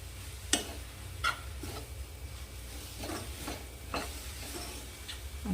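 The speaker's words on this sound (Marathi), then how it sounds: "एक ते दोन मिनिट झाले मी परतत आहे असे बघा" Ambadi (sorrel) greens sizzle softly in a pan while being stirred, with repeated scraping strokes of a spoon against the pan at an uneven rhythm over a steady frying hiss.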